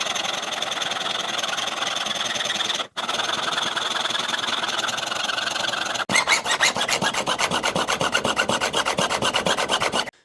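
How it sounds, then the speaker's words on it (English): A hand file rasps across a stainless steel guitar fret and the wood beneath, first in long continuous strokes with brief pauses, then in quick rhythmic back-and-forth strokes, close and steady. "what I'm going to do is file this away until I start filing away the corner of the wood as well"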